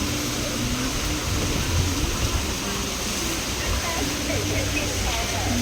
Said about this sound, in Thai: พี่น้องได้ยินเสียงน้ำตกตาดปะจ๊ะเป็นอะไรที่เลิศมาก